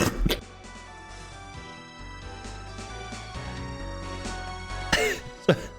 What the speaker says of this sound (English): That got me good and it made me cough